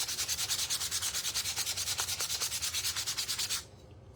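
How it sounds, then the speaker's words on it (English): An old hand garden rake is scuff sanded to remove dirt and grime, making rapid rhythmic back-and-forth rasping strokes that stay close and steady before stopping suddenly near the end. "I'm just going to scuff sand it to get the dirt and grime off of it."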